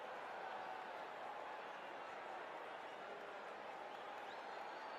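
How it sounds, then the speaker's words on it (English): At Old Trafford during a Manchester United versus Tottenham football match, the stadium crowd gives warm applause as a faint, steady wash of distant clapping, with a commentator talking over it. "receiving warm applause from the Old Trafford crowd"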